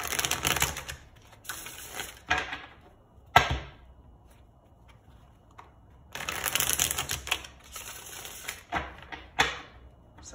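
Tarot cards riffle and snap in quick bursts close by, with short quiet gaps between shuffles and a few soft taps.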